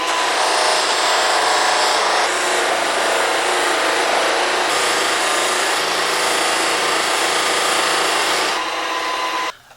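A wooden chisel handle is pressed against a spinning buffing wheel, giving a steady loud whirring rub with slight shifts in tone, ending as it pulls away.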